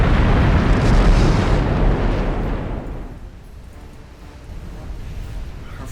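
A warship's flash fire explosion in the naval game Ultimate Admiral Dreadnoughts: a loud, broad roaring blast that rumbles heavily for a couple of seconds, then fades into a lower, steady rushing noise.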